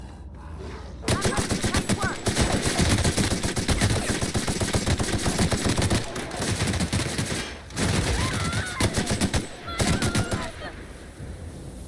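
Rapid gunfire in The Outer Worlds, dense bursts of automatic shots after a brief quiet start, loud and close, broken by short pauses before resuming in heavy volleys.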